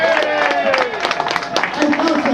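Audience applause with scattered sharp claps at a Minnesota Rock Country Hall of Fame induction, moderately loud and brief, mixed with crowd noise and people talking over it.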